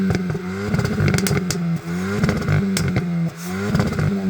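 A sporty car engine revs hard in repeated bursts, a loud raspy exhaust rising and dropping between throttle blips, close by.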